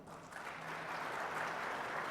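Studio audience applauding steadily for about two seconds, a dense, sustained clatter of clapping hands with no voices on top, growing slightly fuller toward the end.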